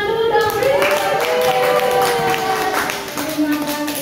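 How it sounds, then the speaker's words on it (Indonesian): A school audience at a junior high presentation claps in a loose, scattered patter while voices talk and call out over it, fairly loud and close. "Beri tepuk tangan dulu dong."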